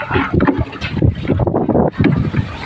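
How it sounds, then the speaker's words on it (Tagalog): Strong wind buffets the microphone while out fishing for tilapia, a loud, gusty low roar that surges and drops unevenly, with no speech. "Lakas lang ang hangin."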